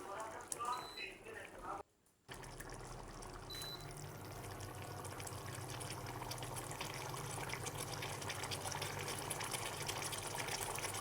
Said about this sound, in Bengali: জল ফুটে উঠেছে।